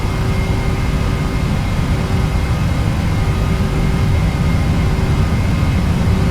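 Airliner jet engines at takeoff thrust in a flight simulator game, a loud, steady, unbroken roar with a deep rumbling low end and a faint constant whine, no voices.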